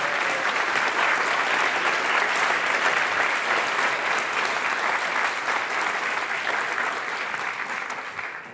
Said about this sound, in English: So one more applause for Gobo.